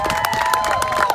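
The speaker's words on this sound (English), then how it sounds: "Let's give her another round of applause." A crowd at a multicultural George Floyd march in Carbondale, Illinois, breaks into a short burst of clapping mixed with cheering voices.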